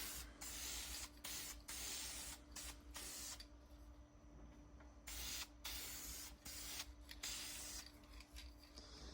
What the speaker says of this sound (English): I'll just kind of show you guys spraying on this first coat